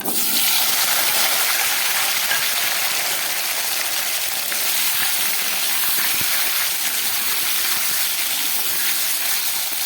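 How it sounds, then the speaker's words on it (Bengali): Boiled new potatoes frying in hot oil in a wok, a loud, dense and continuous sizzling hiss that holds steady for about ten seconds with no voices. "এই তেলের মধ্যে এই আলুগুলোকে আমি একটু ভেজে দিচ্ছি।"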